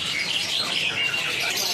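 Dense chattering and chirping from a crowd of jalak kebo starlings, young and old birds together at a bird kiosk, a continuous busy mix of calls close by with no talking.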